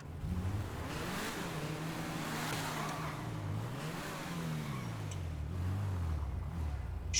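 A car driving in GTA 5 with a continuous engine drone that rises and falls as it revs and shifts, close and steady throughout.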